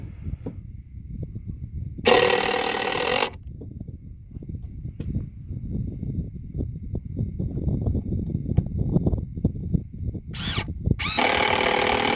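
A power driver sinks screws into porch boards in two bursts, one of about a second and a later one split into two, set against steady outdoor rumble and knocking.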